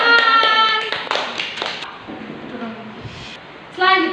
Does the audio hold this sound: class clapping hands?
yes